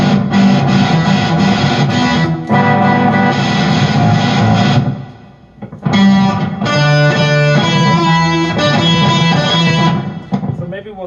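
Electric guitar played through a Vox Trike Fuzz pedal with both octave-up and octave-down engaged, loud and saturated sustained chords and riffs, with a brief dip in the middle before a second burst of thick, buzzing fuzz.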